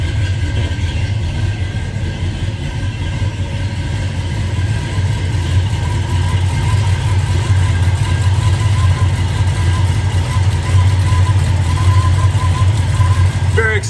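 A 1968 Ford truck engine idles steadily up close, a continuous low rumble that holds an even rhythm from start to finish with no revving.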